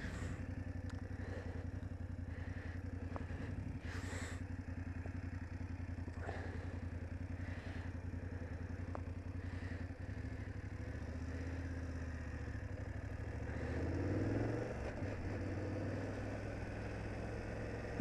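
A 2018 BMW F850GS motorcycle engine runs steadily while riding, a constant low drone with wind noise and occasional clatter, swelling slightly louder near the end.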